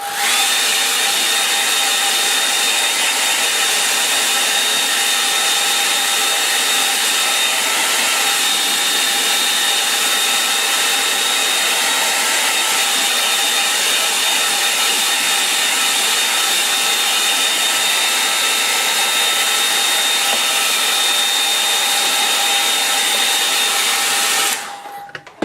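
A hair dryer blows steadily and loudly on a watercolour painting, a constant whirring roar with a faint high whine that runs unbroken for about 25 seconds before cutting off abruptly at the end.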